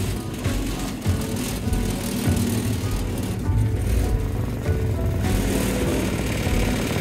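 A go-kart riding on 3D printed filament bearings gives a continuous low mechanical rumble and whir with rolling rattles, fairly loud and close, without speech.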